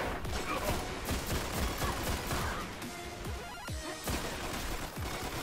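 Rapid gunfire from the video game Destiny: Rise of Iron during an Iron Banner match, with loud, dense bursts of shots and impacts crackling steadily through the whole stretch.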